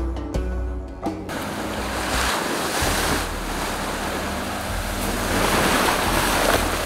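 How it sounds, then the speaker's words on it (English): Strong wind buffets the microphone in a constant roar, with crashing surf mixed in and no talking. "It's too windy."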